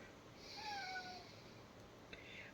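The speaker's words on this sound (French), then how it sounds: "Vous entendez mon chat, hein, je l'ai mis dans la pièce à côté le temps que je fasse ça." A cat shut in the next room gives a faint, drawn-out meow with a brief second cry after it, muffled and distant under light wind noise.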